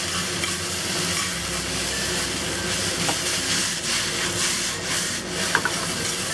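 Mushrooms, okra and tofu stir-fried and tossed in a pan, a steady sizzle with scraping and stirring throughout, close and moderately loud with no talking.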